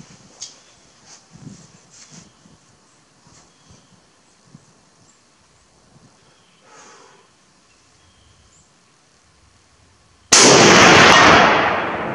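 A single loud Finnish M39/43 sniper rifle shot cracks out near the end, sudden and sharp with a long decaying roar, after a stretch of quiet handling clicks and faint shuffling.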